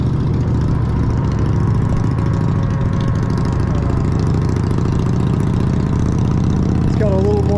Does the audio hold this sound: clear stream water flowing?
no